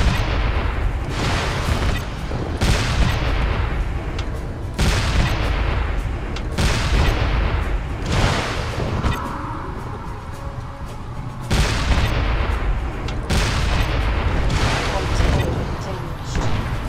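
Weapon fire from battling mechs in MechWarrior: Living Legends: repeated loud booming bursts, roughly every two seconds, over a constant dense game din, with talk mixed in.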